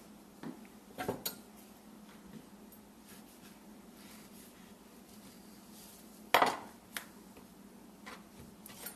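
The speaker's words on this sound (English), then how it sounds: "Got 2 avocados here. I'm going to go ahead and cut these up." Knife cutting avocados for guacamole on a board, a few sharp clicks and taps close by, with one louder knock and long quiet stretches between them.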